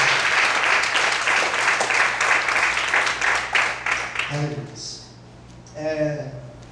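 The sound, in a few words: church congregation applauding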